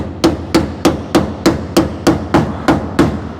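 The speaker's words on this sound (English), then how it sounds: "drive the scraper up from the bottom like that" Evenly spaced, sharp hammer blows drive a scraper up from the bottom of a car subframe, about ten loud metallic knocks roughly three per second, close and without speech.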